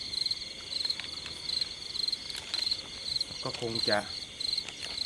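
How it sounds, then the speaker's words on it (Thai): Crickets chirp in a steady, repeating pulse throughout, close and fairly loud, with a brief burst of speech near the end. "เสียงจิ้งหรีดร้อง"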